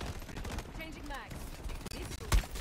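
Gunfire from a weapon in the Shatterline shooter game, a faint rattle under a voice and game noise, ending in one sharp loud shot near the close.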